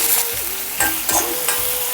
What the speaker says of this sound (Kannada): ಹೆಚ್ಚಿಟ್ಕೊಂಡಂಥ ಹಸಿಮೆಣಸಿನ್ಕಾಯಿ ಮತ್ತು ಒಂದು ಕಟ್ ಮಾಡಿರೋ ಈರುಳ್ಳಿ ಸೇರಿಸಿ ಈರುಳ್ಳಿ ನೀಟಾಗಿ ಮಾಗಿಸ್ಕೋಬೇಕು